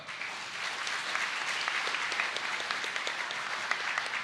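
An audience at a higher education ministry New Year address applauds the vice-chancellors, a steady, fairly distant wash of many hands clapping that continues evenly without speech.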